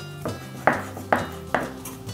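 A knife chops fresh coriander on a cutting board in a kitchen, four sharp, evenly spaced strokes, close and clear, with no talking.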